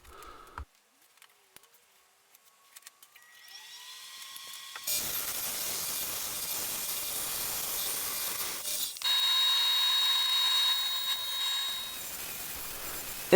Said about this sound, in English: And with all of these pieces dry, I can sand them out.